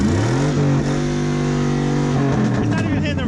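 Duramax diesel truck engine revving hard in a short burst, loud and close, with a voice exclaiming over it.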